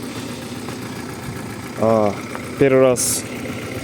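An Audi 80 engine idles with a steady low rumble throughout, and any knocking from the motor is hard to pick out. Two short bursts of speech rise over the engine noise.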